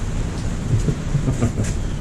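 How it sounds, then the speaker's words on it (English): Low rumbling thunder from a storm rolling in near the sea, a steady dull roar with soft rolling swells and no voices. "I think we've got a storm rolling in."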